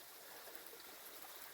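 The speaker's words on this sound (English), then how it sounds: "I'm stopped at this little stream right here" A small mountain stream in the Trinity Alps Wilderness flows steadily, a faint, even hiss of rushing water with no other sounds or voices.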